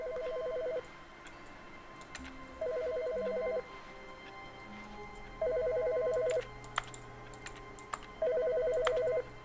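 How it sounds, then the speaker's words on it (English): In the video game The Stanley Parable, a telephone rings in repeated electronic bursts separated by pauses, with faint clicks and soft background hum in between. "There's a phone ringing."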